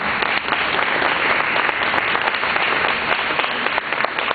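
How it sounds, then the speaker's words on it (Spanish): A church congregation applauds during a Sunday service, a dense, loud, continuous wash of many hands clapping throughout, without any audible speech. "Dale un fuerte aplauso."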